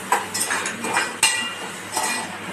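Cluster beans tipped into softened tomatoes in a pan, giving scattered metallic clinks and clatter of utensil against pan, with a sharp knock in the middle, close by and moderately loud, no talking.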